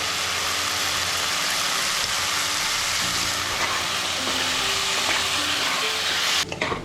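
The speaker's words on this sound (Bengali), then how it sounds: "চিকেন কিমাটা আর এই মশলাগুলো দিয়ে বেশ ভালো করে দশ পনেরো মিনিট কষিয়ে নিন" Chicken mince cooks with spices in a hot pan, giving a loud, steady, hissing sizzle throughout with faint scraping from stirring underneath and no voices.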